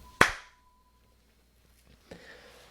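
A single sharp hand clap, close and loud, marks the start of a podcast recording, followed by near silence and a faint thump.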